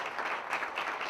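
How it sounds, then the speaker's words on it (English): Applause from an audience at a virtual symposium awards moment, a brief, moderately faint burst of many hands clapping with a slightly muffled, uneven texture. "So let's give him also a round of applause"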